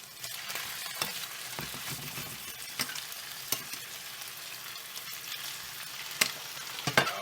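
Chicken pieces sear and brown in a hot pan with a steady, close hiss of frying, broken by occasional sharp pops and light utensil clicks.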